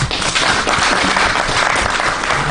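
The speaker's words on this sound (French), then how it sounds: "Si on peut applaudir pour eux." A large audience at an awards ceremony for distinction and excellence in Congo applauds the honourees, a loud, dense and unbroken roar of clapping that holds steady throughout.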